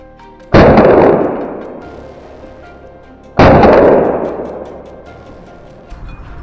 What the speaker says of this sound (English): As soon as the wild boar charged out, a gunshot rang out